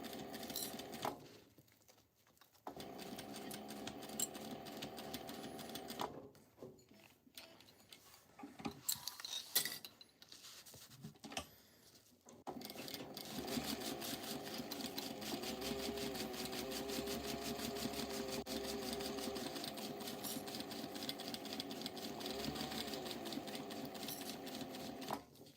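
A sewing machine bastes mesh onto a tote bag, running in a steady mechanical whir with short stops and restarts early on, then one long continuous stretch of stitching.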